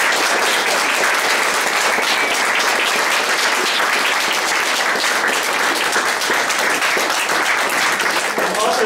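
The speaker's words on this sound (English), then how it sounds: "I think everyone deserves a really big round of applause." Sustained audience applause at the Edible Book Festival benefiting Forbes Library in Northampton, Massachusetts, dense steady clapping from a crowd filling the whole stretch at even loudness.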